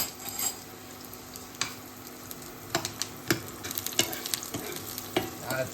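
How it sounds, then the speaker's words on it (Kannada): Onions frying in a pan with oil, being stirred until they turn reddish: a steady soft sizzle under repeated sharp scrapes and clicks of a utensil against the pan, close by, with no talk. "ಈಗ ಉಳ್ಳಾಗಡ್ಡಿ ಹುಕ್ಕೋರಿ ಕೆಂಪ ಹಂಗ"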